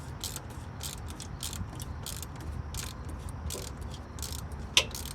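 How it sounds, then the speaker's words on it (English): A 1/4-inch ratchet clicks in rapid, evenly spaced bursts while tightening the oil drain plug on a 2017 Toyota Tundra, close and fairly quiet over a low background hum, with one sharper tap near the end. "Mind you, I'm using a 1/4-inch ratchet."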